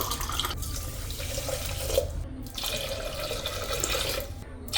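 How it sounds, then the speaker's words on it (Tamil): Water pours steadily from a glass into a pot of rice, a continuous splashing rush with a few brief pauses, close and fairly loud. "இப்போ நான் இதை தண்ணி ஊற்றிக்கிறேன்"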